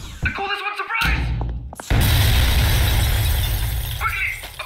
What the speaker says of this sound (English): Broken glass is sharp.